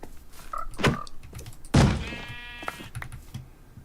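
A skeleton horse in a video game makes a short bleat-like whinny, then a hard thunk and a longer, buzzy, wavering neigh, heard close and clear over faint background game noise.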